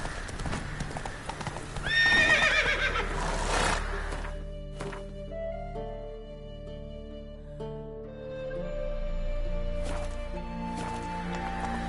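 A horse is ridden in The Witcher 3 video game. Clip-clopping hoofbeats run steadily throughout and a loud neigh comes early, set against orchestral game music.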